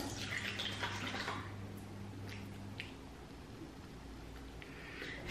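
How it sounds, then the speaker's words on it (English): Water splashes and runs at a sink as a face is rinsed and massaged, a moderate wet sloshing and trickling with soft squishy hand sounds, fairly close and without talk. "As I'm washing it off, I just like massage it with water."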